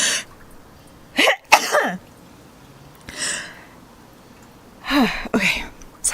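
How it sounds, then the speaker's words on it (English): Several sharp sneezes burst out close and loud, with short quiet pauses between them. "I think I'm going to sneeze."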